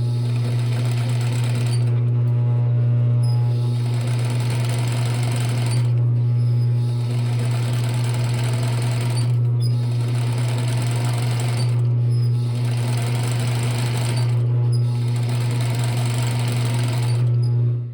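A sewing machine hums and stitches through swimwear elastic in long steady runs, pausing briefly every few seconds, loud and close with a constant motor drone and rapid needle clatter.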